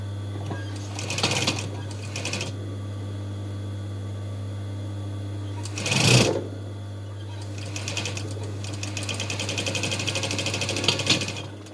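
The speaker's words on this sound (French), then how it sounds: "On coud toute la courbe ici, point d'arrêt ici." A sewing machine stitches the curved lining of a fabric face mask in several runs, close and steady over a low electrical hum, with pauses between the bursts.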